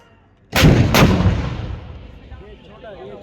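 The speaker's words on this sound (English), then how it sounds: "the 130mm M46 and 155mm Soltum will now fire on Hathi Mata" Two powerful booms close together from 130mm M46 and 155mm Soltam artillery guns at an army firepower demonstration, followed by a rolling rumbling tail, with faint crowd sounds afterward.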